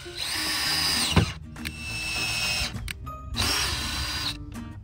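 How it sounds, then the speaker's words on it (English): A power drill bores screw holes to install a ShadeFin mini semi-flush mount, loud and close, with two long whining runs broken by short pauses and brief bursts between them. "Okay, I've drilled the holes, I put the screw in and started that."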